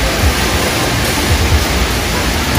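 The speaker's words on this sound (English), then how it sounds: "they splash water everywhere" Loud, continuous rushing and splashing water fills the whole short stretch, a dense spray with low thumps underneath, with no voices heard.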